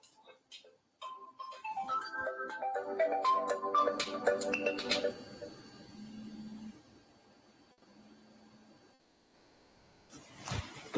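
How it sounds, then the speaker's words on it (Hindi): A mobile phone ringtone plays a loud, repeating electronic melody for about four seconds in the middle of a Hindi lecture on modern Indian history, then cuts off, leaving quieter room noise and a brief voice near the end. "चलिए, फोन आ गया था, कोई बात नहीं, उसको थोड़ा सा साइलेंट किया।"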